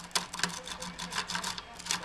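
A lock pick rake scrubs back and forth across the pins of a pin-tumbler lock under light tension, making a rapid series of close, scratchy metallic clicks and rasps with an irregular rhythm.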